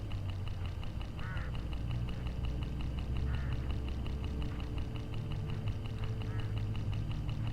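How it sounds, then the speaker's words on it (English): Hooded crows along a roadside in the game Hitchhiker give three faint, spaced calls, almost buried under a steady low vehicle drone. "Look, hooded crows all along this road."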